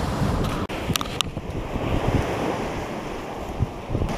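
Surf breaking over a gravelly shoreline at Westmoreland State Park, a steady close wash of waves under heavy wind noise buffeting the microphone throughout.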